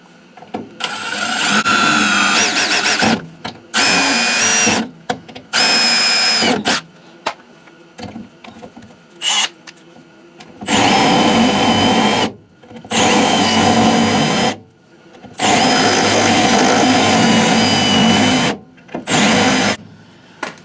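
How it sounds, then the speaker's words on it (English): Spot weld cutter drilling out spot welds on a Chevy C10 cab corner, loud bursts of high-pitched drilling in repeated runs of one to three seconds separated by short pauses, with no talk. "So I can get my spot weld cutter here."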